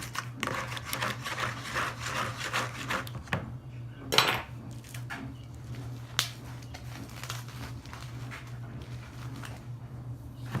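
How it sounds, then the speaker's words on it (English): Steaks being stirred in a butter, garlic and beef bouillon marinade: soft scraping and wet rubbing in a bowl, with a few clinks of utensil against dish over a steady low kitchen hum, close and fairly quiet. "Stir it up a little bit."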